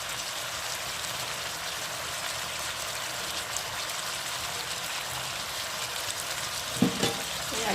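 Chopped onion and green chillies frying in a pan for chilli chicken, a steady, fairly loud sizzle that runs throughout, with a light stirring clatter near the end.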